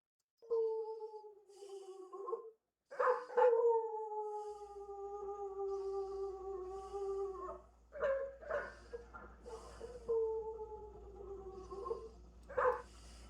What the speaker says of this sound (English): just enjoy the little puppy howl